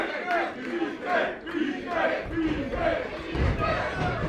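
Video game wrestling crowd in a match between Beefcake and Green Ant, a loud arena roar that swells and chants in repeated waves throughout, with no voices standing out on their own.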